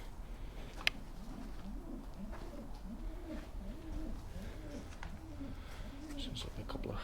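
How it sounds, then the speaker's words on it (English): Pigeons coo in a repeated soft rhythmic series of low calls inside an abandoned courthouse, with faint room noise and a brief knock. "pigeons nesting up there."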